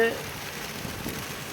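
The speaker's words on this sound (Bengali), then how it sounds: "অনেক বৃষ্টি, যা থামার কোনো সম্ভাবনা দেখা যাচ্ছে না" Heavy, continuous rain after days of downpour in Tangail, a steady hissing wash of drops that holds an even level throughout without any break.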